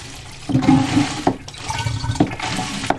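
A simple toilet aboard a boat flushes after a repair, with a rushing, gurgling surge of water in short pulses and a few clunks from the pump or handle, close by.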